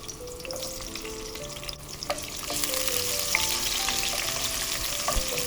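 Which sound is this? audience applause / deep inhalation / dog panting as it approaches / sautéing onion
sautéing onion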